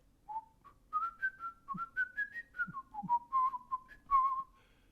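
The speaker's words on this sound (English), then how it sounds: "I sometimes will whistle it to myself while walking to work." A person whistles a catchy classical melody alone, a clear sequence of sustained and gliding notes with a steady, tuneful rhythm, close and moderately quiet.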